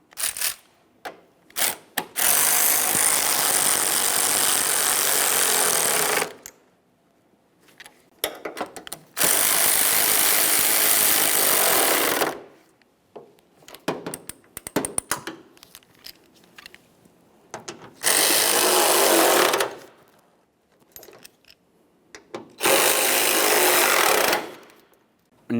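Bolts on a 2012–2015 Honda Civic hood hinge are tightened with a 10mm socket on a power tool. It sounds like several loud bursts of whirring, each a few seconds long, separated by quiet gaps with small clicks and handling noises.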